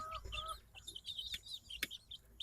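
Young chickens, a group of middle-aged chicks kept apart from older cockerels and pullets, cheeping and clucking in short high bursts, close by, with a sharp click near the middle.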